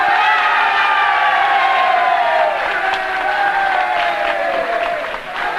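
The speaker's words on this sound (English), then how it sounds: "Charles Royal receiving the applause from his supporters down at the end of the room there" Sustained applause and cheering from a crowd of supporters at the far end of a room at an election count, steady and loud with whoops mixed in, fading slightly at the end.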